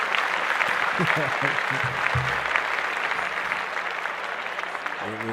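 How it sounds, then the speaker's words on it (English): A burst of applause from a group, loud at first and then gradually fading, with voices speaking over the clapping. "Clap that up."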